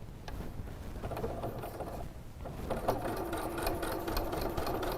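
Sewing machine stitching woven windowpane fabric, a steady continuous mechanical whir with rapid needle clatter that grows slightly louder midway, running alone without talk.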